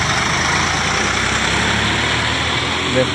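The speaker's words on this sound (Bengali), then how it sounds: "কাঁকড়া বা ট্রাক্টর এসেছে যেটি সাইড দিয়ে যেতে কষ্ট হচ্ছে" A brick-loaded tractor squeezing past on a narrow village road, its heavy diesel engine a steady loud low rumble close by for the whole stretch.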